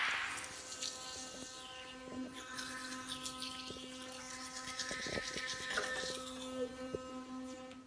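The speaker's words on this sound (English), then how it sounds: "So we just finished brushing with the My Magic MD charcoal powder." Teeth being brushed with My Magic MD charcoal powder: a faint, continuous electric buzz with steady tonal hum and occasional soft scrubbing clicks, close but quiet.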